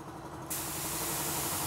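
A semi-automatic spray setup switches on and sprays: a steady hiss starts abruptly about halfway through and continues loud and even over a constant machine hum.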